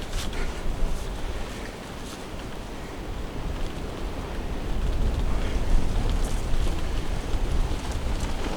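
Wind gusts blow outdoors at a bow drill fire-making site, a broad, rumbling roar of noise against the microphone that swells and eases throughout.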